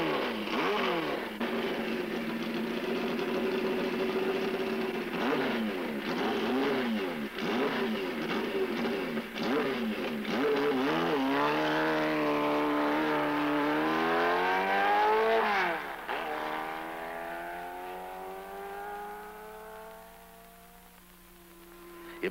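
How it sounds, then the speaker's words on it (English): A Kawasaki Z1 900 motorcycle screams wide open around a two-mile oval track, its engine note loud and sustained, then rising and falling through gear changes before dropping off as it fades away. "Yvonne Duhamel takes the Z1 around the 2-mile oval wide open."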